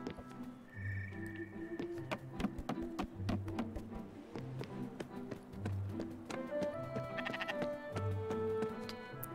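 Sheep bleating in the video game Spiritfarer, repeated cries over a busy game soundscape with hoof-like clip-clop taps and soft musical tones.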